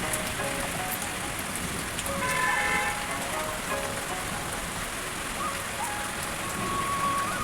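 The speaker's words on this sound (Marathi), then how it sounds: "आणि सायंकाळी 5-6 वाजेकडे खूपच जोराचा पाऊस आला मित्रांनो" Heavy rain pours steadily, a dense constant hiss of drops drumming on surfaces, with no pauses.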